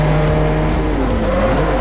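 Race car tires squeal under hard late braking in Forza Motorsport 4, a loud sustained screech over the roaring engine, with no talking.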